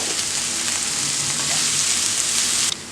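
Salted onions sauté in a frying pan with a steady close hiss of sizzling, a few faint stirring scrapes, and an abrupt cutoff near the end.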